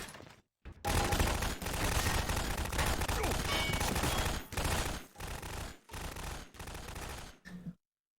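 Sustained automatic gunfire in a video game set in Vault 113, loud and close, with long continuous bursts at first and then several shorter bursts separated by brief silences.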